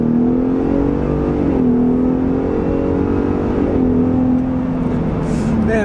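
A 2021 Ford F-150 Raptor accelerates on the highway, its engine note rising and holding loud and close from inside the cab, pitch shifting through gear changes over a constant road roar.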